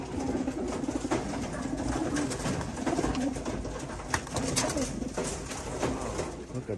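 White grizzle racing pigeons coo steadily in a loft, with wings flapping and soft scuffling throughout, close and continuous.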